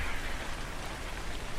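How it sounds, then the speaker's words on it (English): Steady rain falling in the Scorched Earth map of the video game Ark Ascended, a continuous even hiss of drops on surfaces that holds constant throughout with no voices over it. "Even though it doesn't look like it's raining, it is, or it sounds like it's raining."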